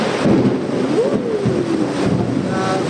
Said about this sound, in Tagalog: Kasabay ng matinding buhos ng ulan, ang mayat-mayang pagkulog sa Antipolo, Rizal kahapon.